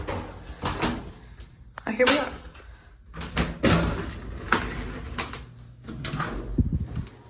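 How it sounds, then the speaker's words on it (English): A door to a vacation house basement opens with knocks and thuds amid footsteps, while a person talks over the handling sounds. "you have to open that door"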